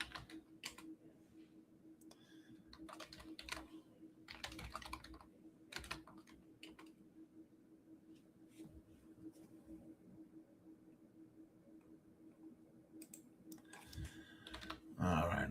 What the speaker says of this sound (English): Bear with me as you hear me typing away here.